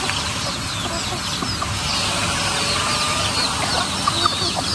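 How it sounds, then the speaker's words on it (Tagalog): Hungry chickens on a farm cluck in short, scattered calls over a steady background of outdoor noise, moderately distant and fairly faint, with no talking. "Nakaabang na po ang mga manok."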